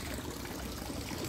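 Water runs steadily from a pipe that has leaked for years, making a continuous broadband rushing and trickling wash with no pauses and no voices.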